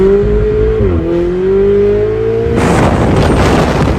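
A Ferrari 488 Spyder drives through the Valley of Fire in Nevada, its engine a loud, close, steady drone that dips briefly as the pitch shifts, then gives way to strong wind and road roar partway through.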